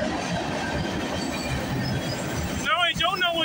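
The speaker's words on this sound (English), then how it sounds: "this freight train going by" A freight train rolls by close and loud, with a constant rumble of wheels on rail; near the end a person's speech rises over the passing cars.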